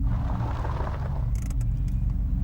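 A car coming up from behind on a private road, heard as a steady low engine rumble that stays fairly close and even throughout, with no voices.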